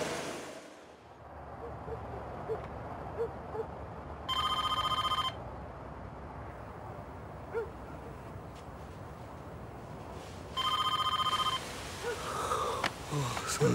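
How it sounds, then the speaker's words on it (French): A telephone rings in two bursts of a bright electronic trill, each about a second long and several seconds apart, over a steady background hum. "Mais 2 jours plus tard, elle reçoit un appel de la NASA."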